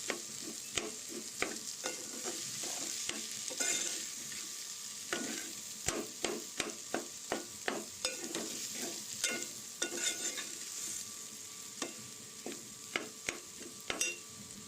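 Potato fry cooking in plenty of oil while being stirred, a close steady sizzle broken by repeated sharp scrapes and taps of a spoon against the pan at an uneven rhythm.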